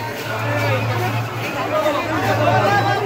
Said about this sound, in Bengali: ভিড় দেখো খালি মন্দিরে কত ভিড় হয়েছে